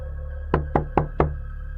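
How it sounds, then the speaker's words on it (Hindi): Four firm knocks on a door, evenly spaced and close, each a short hollow thud over a low steady hum, with no voices. "इस वक्त कौन दरवाजा खटखटा रहा है?"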